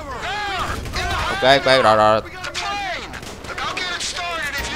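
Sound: gunfire in GTA 5 video game

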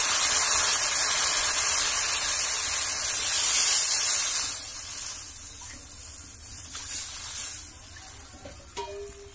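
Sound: gravy added to fried spices, simmering in the pan

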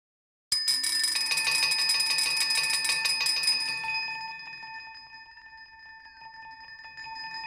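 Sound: Omnisphere 2 synthesizer patch with granular oscillator turned on

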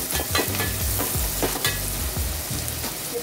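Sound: chopped onions and tomato frying in a pan

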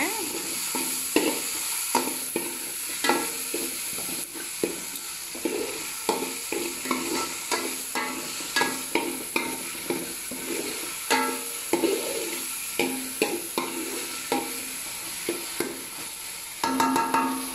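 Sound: stirring dried fish frying in oil

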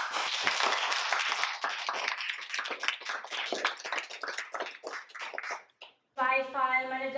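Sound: audience applause

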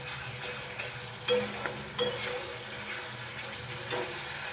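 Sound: stirring and sautéing ghugni gravy in a pan

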